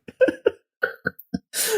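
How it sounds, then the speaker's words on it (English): A few short voiced grunts, then a rough, breathy throat clearing close to the microphone, loud and alone at the end. "I just got to clear my throat there"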